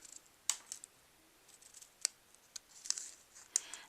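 Scissors snip small pieces of paper for a handmade Christmas card, a few quiet, crisp, separate cuts up close with brief pauses between them.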